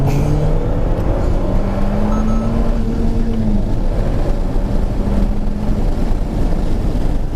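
An Alpine A110 on the Mornay race circuit brakes hard, heard from inside the car as a loud, constant roar of engine and wind with shifting engine tones that dip as the car slows.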